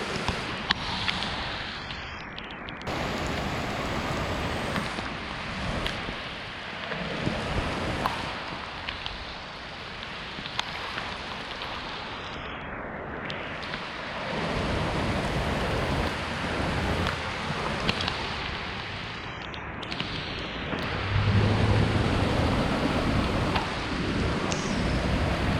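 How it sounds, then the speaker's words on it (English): A heavy rainstorm with thunder pours down over a flood canal and creek, a dense, loud, unbroken roar of rain and wind with low rumbling swells that builds louder toward the end. "It's the real deal storm here."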